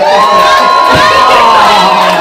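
A large comedy theater crowd cheers and whoops loudly, with sustained high-pitched shouting that swells and holds throughout.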